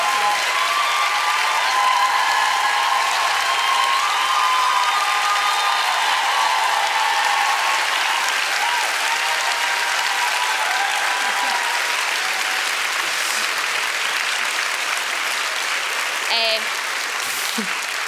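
A live show audience claps loudly and steadily for guests, dense continuous applause that holds for many seconds before thinning slightly near the end, with a few brief voices on top.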